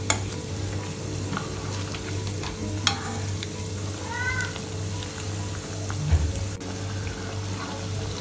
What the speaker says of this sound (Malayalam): കട്ട്ലേറ്റിൻ്റെ ഒരു സൈഡ് ബ്രൗൺ ആകുമ്പോൾ മറ്റേ സൈഡും കൂടി മറിച്ചിട്ട് ഫ്രൈ ചെയ്തെടുക്കണം